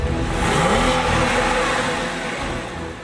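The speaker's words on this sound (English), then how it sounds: "This has the two-stage sport exhaust system." A 2004 Porsche 911 Carrera 4S of the 996 generation with a two-stage sport exhaust revs hard, a rising and then easing engine growl heard up close for a few seconds with no talk.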